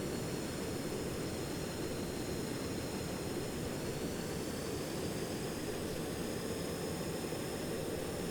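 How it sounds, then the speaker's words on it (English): An airplane engine roars steadily through takeoff in the vehicle-building game Stormworks, a constant, dense, broadband drone with a faint whine on top, unchanging and alone with no talking. "Oh, now I'm flying a plane."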